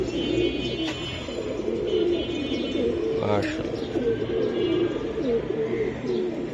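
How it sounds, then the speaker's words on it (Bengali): Female pigeons at a bird market coo in soft, repeated murmurs close by, with someone talking briefly over the background chatter of the birds. "মাদি কবুতর।"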